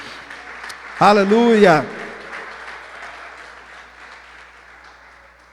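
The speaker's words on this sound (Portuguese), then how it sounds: "Vamos aplaudir a Jesus." A church congregation applauds steadily through a service sermon, the broad clapping fading gradually; a single voice calls out briefly near the start over the sound.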